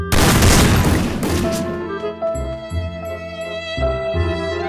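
Loud gunfire in the Free Fire shooter game, starting with a dense burst of rapid shots, then a few separate booming shots with ringing game tones and musical effects between them.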